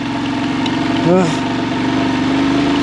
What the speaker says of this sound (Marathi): हे बघा पहिल्या गिअरमध्ये पण गाडी चढत नाही आहे